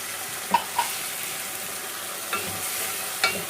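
Sardines sautéing in a pan for a mung bean dish give a steady, close sizzle, with a few sharp pops and the clink of a utensil stirring now and then.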